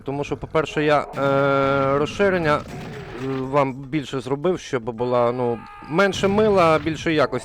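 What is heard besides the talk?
No everyday noise stands out behind the speech.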